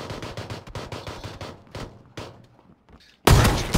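Gunfire in PLAYERUNKNOWN'S BATTLEGROUNDS: a rapid run of sharp shots that slows to single cracks with short gaps, then ends in one loud, close, booming blast like a shotgun.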